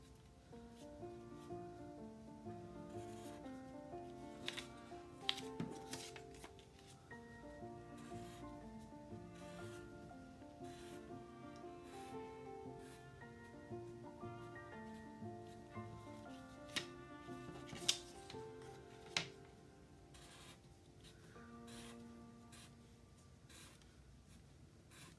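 A pen drawing lines on paper for a carrot seed packet design, faint scratchy strokes and soft taps set against quiet background music.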